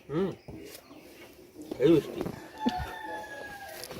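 Chickens running about outdoors give a few short, throaty clucks and crow-like calls in scattered bursts, mid-distance, with a faint thin whine and background voices.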